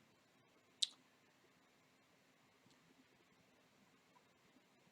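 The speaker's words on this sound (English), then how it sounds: "you have to click on Submit Application." A single sharp mouse click sounds once against near silence while an online job application is submitted, followed by faint scattered ticks.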